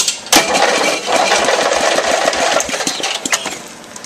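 A Briggs small engine, converted to electric start, catches and runs with a loud, rapid chugging putter close by, steady and rough throughout.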